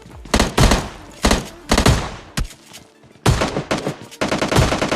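M416 rifle fire in a video game, loud close bursts of rapid automatic shots in several rhythmic strings separated by short pauses, with no talk over them.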